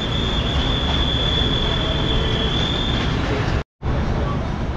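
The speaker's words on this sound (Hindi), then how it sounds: "तो हमारी ट्रेन ने जो है वो मूव होना शुरू कर दिया है खानेवाल जंक्शन रेलवे स्टेशन से।" The Green Line Express starts pulling out of Khanewal Junction in Pakistan, heard from inside an economy class carriage: a steady loud rumble of rolling wheels and carriage noise with a faint whine, cut by one brief dropout.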